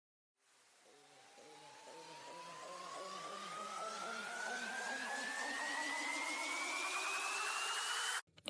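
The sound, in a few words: riser sound effects building tension in a drop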